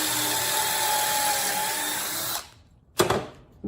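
A power drill boring a pocket hole through a jig clamped to the edge of a wooden board, a loud steady whine that cuts off, then a short second burst.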